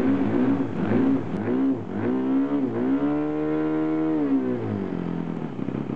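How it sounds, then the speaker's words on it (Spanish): An engine runs close by, its rough, harmonic-rich note climbing and falling through several revs over a few seconds. No one speaks. "A ver si arranca bien a la primera."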